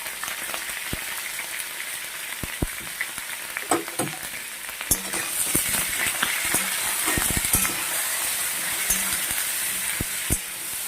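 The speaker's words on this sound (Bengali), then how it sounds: "দেখুন, চাল কুমড়াটা ভাজা হয়ে গেছে" Ash gourd frying in hot oil in a pan with turmeric and salt: a steady, close sizzle with scattered crackles and pops that grows slightly denser partway through, with no voices.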